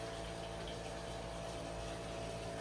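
A pump keeps water circulating in an unheated outdoor koi pond tank in winter, giving a steady, faint, continuous watery hum and gurgle with no other sounds.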